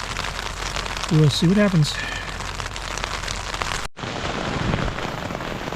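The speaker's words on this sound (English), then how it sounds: "It's actually little bits of hail coming down, which is turning into ice." Small hail pattering steadily on a tent during a Pacific Crest Trail thru-hike, a dense even patter that carries through the whole clip while a person speaks briefly near the start.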